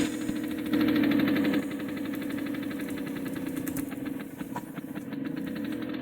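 A tractor engine in Farming Simulator 17 drones steadily and roughly without catching properly, a continuous mid-pitched mechanical rumble with a brief louder surge early on, heard alone.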